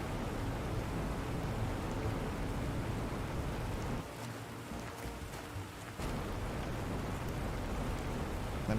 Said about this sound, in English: It is raining in the desert